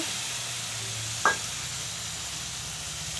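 Cinnamon and a ground spice paste fry in hot oil for an aair fish kalia, a steady close sizzle running throughout, broken once by a single sharp clink of the spoon against the pan.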